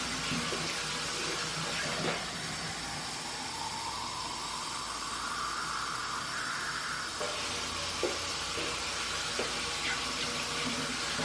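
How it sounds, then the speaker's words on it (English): Hot water pours steadily into a water-bath canning pot holding jars of carrot cake jam, a close, continuous splashing hiss whose pitch slowly rises as the pot fills. "I'm just adding that water so that it gives me at least an inch above my jars"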